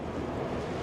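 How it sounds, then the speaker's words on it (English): Strong wind buffets the microphone on an open safari vehicle during a drive, giving a steady, loud, broadband rushing roar that fills the whole moment with no voices. "it's very windy now"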